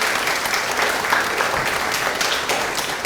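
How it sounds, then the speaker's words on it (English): An audience at a 5th grade elementary school celebration applauds a recent high school graduate with dense, steady clapping that holds at an even level throughout. "let's give her a round of applause"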